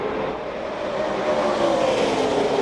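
NASCAR stock cars run in a tight pack at Talladega during the 2004 Aaron's 499, a loud, steady engine roar that swells slightly as the cars pass close by, with no talk.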